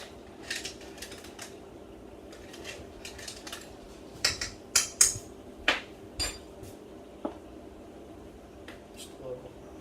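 A spoon clinks and scrapes against a metal pot as canned clams and their juice are stirred into chowder, giving scattered sharp metallic taps over low background noise and quiet talk.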